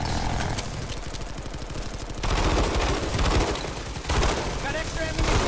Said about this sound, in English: First off, three volley salute.